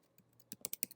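Someone types code on a computer keyboard: a short, quiet burst of several quick key clicks that grows denser toward the end.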